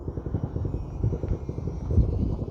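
UMX Twin Otter scale RC model plane in a late afternoon flight, a pulsing, buzzing propeller drone with an uneven rhythm, fairly close and continuous, with no talk over it.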